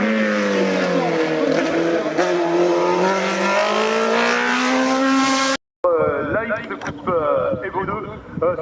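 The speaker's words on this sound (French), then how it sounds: "Rapide Morgane, rapide avec cette auto qui a été championne de France au volant" A French-championship race car climbs the hill climb course at St Gouëno, its engine revving up through rising gears, loud and close, with a brief cut before it roars on under continuous excited commentary.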